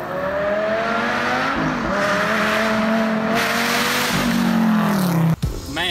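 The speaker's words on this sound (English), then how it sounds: "Exhaust freaking knocked my shoes off." A Dodge Viper TA engine roars loudly through its exhaust and climbs through revs, pitch rising and dropping with gear changes, then cuts off abruptly near the end.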